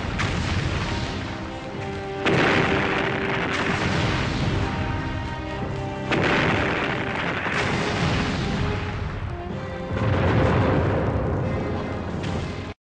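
Artillery bombardment on the World War One western front, a continuous rumble of heavy booms and deep thuds overlapping densely, with several louder bursts standing out every few seconds throughout.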